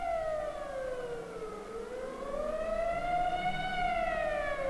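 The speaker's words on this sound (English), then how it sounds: "the siren sounds once more" A civil defense air-raid siren wails steadily, its tone sliding down then slowly climbing again, heard alone at a moderate distance with no voices.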